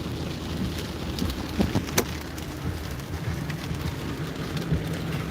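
Rain falling outdoors on a cold, wet day, a soft continuous patter with a few sharper drops standing out, fairly quiet and unbroken by speech.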